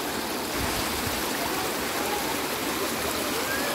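Clear stream water flowing steadily, a continuous close rushing wash with no pauses and no voices.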